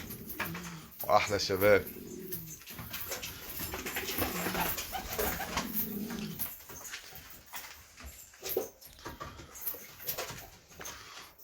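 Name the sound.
pigeons cooing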